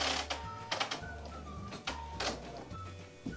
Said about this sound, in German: Dann fährt die Nadel nur ein paar Mal hoch und runter.